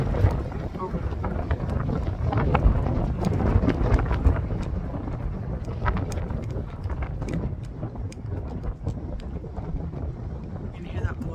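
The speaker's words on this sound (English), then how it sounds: "You can hear that blowing over the opening of the pot." Outdoor wind gusting across the open mouth of a salt-glazed pottery jug, a steady loud rushing with faint buffeting and scattered small knocks, heard up close throughout.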